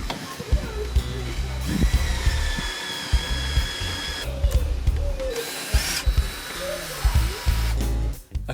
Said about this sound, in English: Now I'm going to screw the hex screws in place.